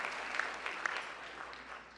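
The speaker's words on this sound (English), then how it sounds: "Give them a big round of applause." Audience applause at the White House Correspondents' Dinner, a continuous soft clapping wash heard from a distance, with a few sharper individual claps standing out.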